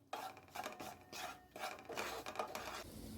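Spices with red chili powder being mixed in a pan for chicken and olive chutney: a quiet, rhythmic rasping rub of a spatula across the pan in repeated strokes, close and unaccompanied by speech.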